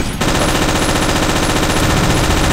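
Sustained rapid machine-gun fire in the World War II shooter game Forgotten Hope 2 on Gold Beach, a loud, close, unbroken burst of rattling shots that begins abruptly and runs without pause.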